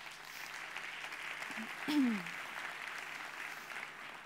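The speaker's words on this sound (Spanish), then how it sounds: "Un aplauso para él" A studio audience gives steady, soft applause for a television presenter, a faint diffuse clapping wash with a brief voice rising in the middle.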